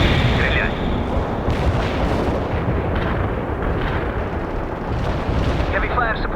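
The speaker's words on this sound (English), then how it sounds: "Artillery strike on the way. Artillery barrage." An artillery barrage in the video game World in Conflict: a dense run of rumbling shell blasts and booms, some sharper impacts standing out, loud and continuous across the whole stretch.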